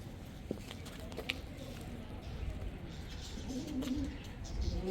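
Soft pigeon coos repeat over a low, steady background rumble, with a few faint chirps mixed in.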